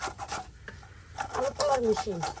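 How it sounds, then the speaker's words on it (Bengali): Potatoes are shredded with a hand cutter, giving close, rhythmic rasping scrapes in quick succession. A voice talks over part of it. "সুন্দর করে দেখেন আলু কুচি করা হইতেছে কিভাবে সহজ উপায়ে অনেকগুলো তাড়াতাড়ি আলু কুচি করা যায়"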